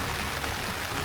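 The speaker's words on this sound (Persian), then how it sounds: "خیلی حس خفنیه این صدای بارون داره میاد" Steady rain patters on a tent in a dense, even hiss, with no pauses or voices.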